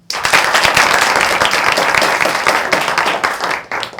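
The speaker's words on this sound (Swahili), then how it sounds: "Wapi makofi yao?" Loud, dense audience applause and clapping fills nearly the whole span, steady and close, then briefly breaks off near the end.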